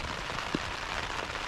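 Dense, heavy rain drums steadily on a tent overhead during a wild camp near Fairfield summit, a constant close hiss with one slightly louder drop.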